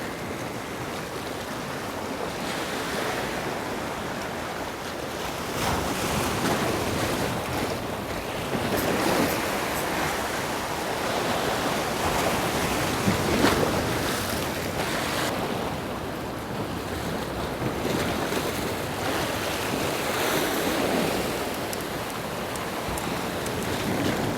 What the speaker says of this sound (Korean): 농어 낚시를 할 수 있는 파도가 아닌데 너무 높은데